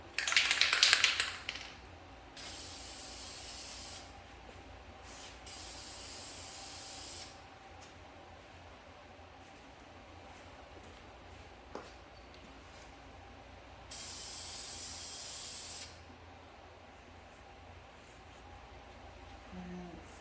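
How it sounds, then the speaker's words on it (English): VHT spray paint hisses from an aerosol can as a mist coat goes onto the brake calipers of a 2019 Nissan Maxima SL. There are three distinct sustained bursts of spray, separated by quieter gaps, close to the listener. "Second mist coat."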